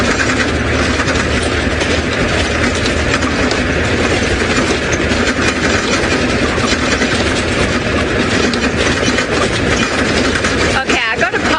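An open safari vehicle on a sunrise game drive rattles and clatters continuously over a rough track, with loud engine rumble and wind throughout, a voice faintly in the mix.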